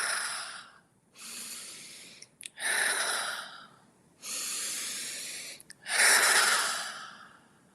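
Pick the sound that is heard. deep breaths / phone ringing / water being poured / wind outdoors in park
deep breaths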